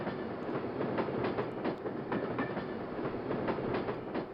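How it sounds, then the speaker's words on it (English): A train in the video game Kingpin: Life of Crime rolls past close by, a loud continuous rumble with a steady clickety-clack rhythm of wheels over rail joints throughout. "So we'll just wait here quietly and patiently for the train to pass"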